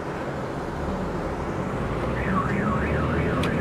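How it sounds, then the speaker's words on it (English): A car alarm wails on a San Francisco street, its rising and falling siren tone starting partway through over constant traffic and city rumble. "Set off another alarm."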